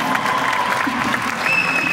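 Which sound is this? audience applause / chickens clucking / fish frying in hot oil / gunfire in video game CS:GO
audience applause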